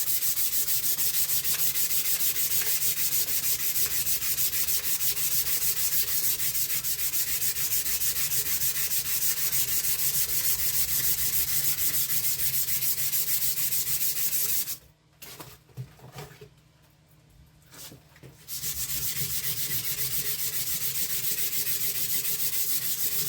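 A strip of sandpaper is pulled back and forth shoe-shine style around a firearm barrel, a continuous loud, rasping scrub for about fifteen seconds, a brief quieter break with faint rubbing, then steady sanding resumes.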